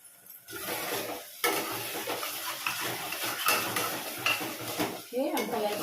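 Chilli powder and rock salt masala frying in oil in a pan, stirred with a metal spoon that scrapes and clinks steadily against the pan over a continuous close sizzle.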